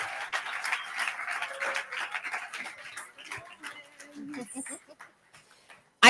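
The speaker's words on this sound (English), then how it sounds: "I think we need a better round of applause for that." An audience applauding at a youth event, a scattered round of clapping that starts fairly strong and thins out, with voices and a few stray noises as it fades.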